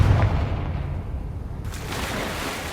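A Confringo fire spell in Hogwarts Legacy lands as a loud, booming blast that opens sharply and rumbles on, heard alone without talk.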